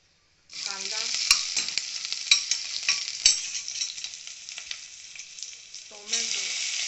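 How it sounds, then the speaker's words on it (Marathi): Onion with tomato, garlic and green chilli hitting hot oil in a pressure cooker, a sudden loud sizzle that settles into steady frying with a few sharp utensil clicks as it is stirred, then a fresh burst of sizzling. "ज्या कुकरमध्ये आपण चिकन शिजवणार आहोत त्याच कुकरमध्ये थोडं तेल घालून त्यामध्ये कांदा"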